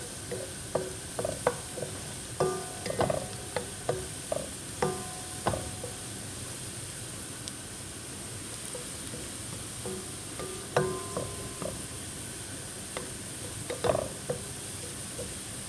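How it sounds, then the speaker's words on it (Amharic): Onions cooking in a pan for an Ethiopian pasta sauce give a steady soft sizzle throughout, with repeated clicks and scrapes of stirring in the pan. "ሽንኩርት እየበሰለልኝ ነው።"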